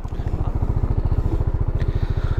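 Close-up motorcycle engine running with a fast, even, throbbing exhaust pulse and a mechanical clatter, steady and loud throughout.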